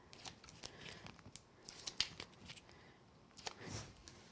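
Backing paper is peeled off mounting foam for a card-making craft, a quiet close series of crackling and tearing rustles with a couple of brief louder peaks, with no talk.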